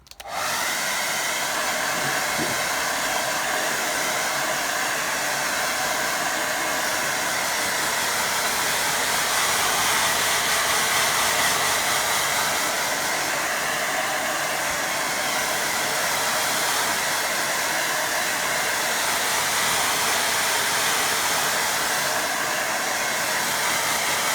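A hair dryer blows steadily to dry wet watercolour paint on paper, a loud continuous whooshing hiss that runs without a break from start to finish.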